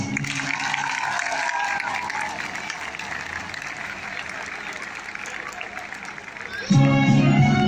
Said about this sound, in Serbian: I aplauz.